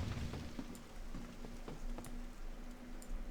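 Steady rain falls in a World of Warcraft: Mists of Pandaria game world, a soft continuous patter with scattered faint drips and ticks, quiet and alone without speech.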